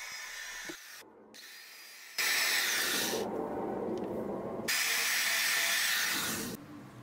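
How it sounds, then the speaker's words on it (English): A power drill pre-drills small holes in wood for a turtle basking dock, whining loudly in two bursts of a few seconds each, with short quiet gaps and brief handling noise between them. "I pre-drill four small holes first."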